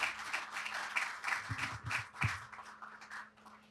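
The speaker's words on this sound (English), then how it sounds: "Please give yourselves a resounding applause." Scattered applause from a finance summit audience, fairly faint and thin, with a few louder claps standing out in the middle.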